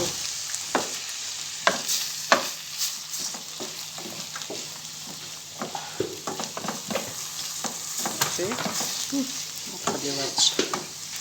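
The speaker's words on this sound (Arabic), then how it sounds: "يلا حرك مزيان" A spoon stirs sauce in a pan over low sizzling, with repeated sharp clinks and scrapes against the metal at an uneven pace, close and clear; a few faint voice sounds appear near the end.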